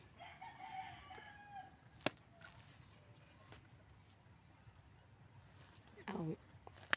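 A rooster crows somewhere off at a distance, fairly faint against steady outdoor background noise.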